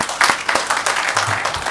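An audience applauding at an international arts management event, a dense wash of many hands clapping, fairly loud and steady.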